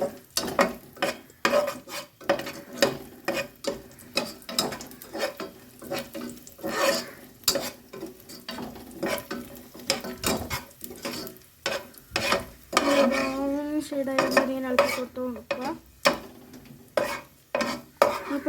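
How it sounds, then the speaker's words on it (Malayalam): A spoon keeps up a busy, steady scrape and clatter while cashews and raisins fry in a pan, with a faint sizzle underneath, close and alone without talk for the whole stretch. "കശുവണ്ടി എല്ലാം ഒരു ബ്രൗൺ ഷെയ്ഡായി വരുന്നവരെ നമ്മളിങ്ങനെ ഇളക്കി കൊടുക്കുക"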